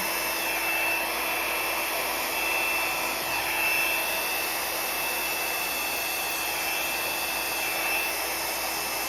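A steady, loud whooshing drone of a blow dryer blowing wet paint on a canvas runs continuously without pause, with no talking.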